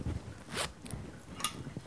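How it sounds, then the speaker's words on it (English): A zipper drawn up the back of a dress hanging on a hanger, giving a few short ripping zip bursts with brief pauses between them, close and fairly quiet with no talking. "Next, we're going to zip it up."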